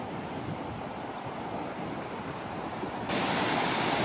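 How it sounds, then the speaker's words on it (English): Gulf of Mexico waves wash onto the beach at Navarre, Florida, a constant broad roar of surf with wind buffeting the microphone, growing louder and brighter near the end. "Look at these waves."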